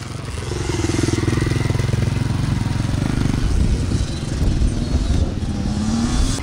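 A kid rides a new dirt bike on a track for the first time, the small engine buzzing loud and close with a steady throttle and slight revving, no speech.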